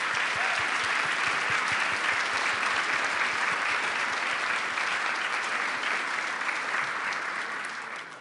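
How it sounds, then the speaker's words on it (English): Sustained applause from a large audience at a security conference, dense and steady for about eight seconds before starting to fade at the end, with no talk over it. "Give them another round of applause."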